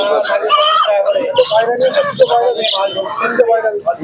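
Caged birds, pigeons and doves, at the Santipur bird market keep up a dense, steady chirping close by, mixed with a crowd's murmur and people talking throughout.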